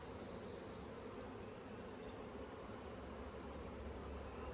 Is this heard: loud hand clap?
no